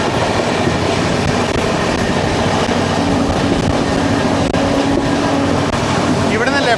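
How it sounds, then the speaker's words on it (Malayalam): The 12431 Rajdhani Express runs on the tracks with a continuous loud rumble and rattling clatter, heard close up from the moving train. "ഇതൊക്കെയാണ് രാജധാനി എക്സ്പ്രസ്."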